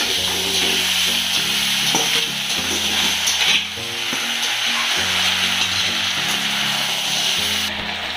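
Elephant foot yam stalks are stirred into a pan with fried potato, pointed gourd and jackfruit seeds, giving a loud continuous sizzle with repeated scraping and rubbing strokes of a spatula close by.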